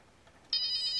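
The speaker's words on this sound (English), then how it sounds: "It's my new camera phone." A phone rings with a sudden bright electronic tone that starts after a brief quiet moment and holds steady, fairly clear and alone.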